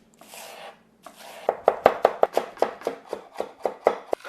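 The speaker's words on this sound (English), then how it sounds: "Next, we're gonna thinly chop up some green onions." Green onions chopped thinly with a knife on a cutting board, a rapid run of sharp, evenly spaced close thuds following a couple of softer initial cuts.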